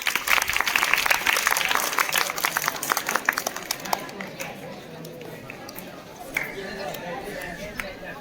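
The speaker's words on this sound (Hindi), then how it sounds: "इस बच्चे के लिए ताली बजाइए आप।" Audience applause for a child at a quiz competition, loud dense clapping at first that thins out into scattered claps and murmuring chatter.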